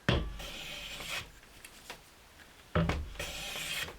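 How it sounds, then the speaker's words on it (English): Wood shavings are taken with a hand tool while making a dovetailed stitching tray: two bursts of rasping, scraping strokes, a short one at the start and a longer one near the end, separated by quieter gaps with faint small scrapes. "I'm just going to take a few shavings"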